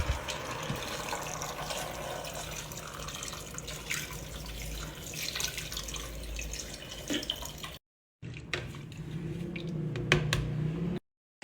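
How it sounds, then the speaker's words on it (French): Water poured into a cooking pot of meat, a continuous close splashing and trickling with small drips and squishy sounds, stopping briefly toward the end and then resuming, with no voices. "Et là, ma mère, elle va rajouter de l'eau."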